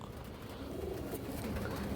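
A large pigeon, one of several racing and high-flyer breeds, coos faintly and continuously over a low, steady background hum.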